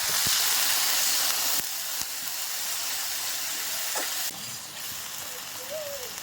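Spice paste for a prawn and taro-stolon curry frying with a splash of water, giving a loud, continuous steamy hiss that drops in level a few times, with faint knocks and a brief squeak.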